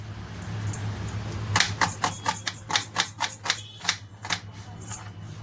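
A knife finely chopping two onions on a board for egg bhurji: after a short lull, a fast, steady run of crisp chopping taps, close and fairly loud, with no voices.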